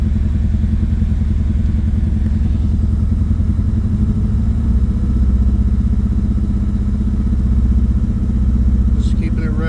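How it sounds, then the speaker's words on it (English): A 2005 Chevrolet Cavalier engine runs loud and steady at raised revs after a fuel system cleaning, while it misfires and chokes and a few cylinders carry the load. A rough, low mechanical drone with clatter persists throughout. "Just keeping it revved so that way if it starts choking again, it'll clear out."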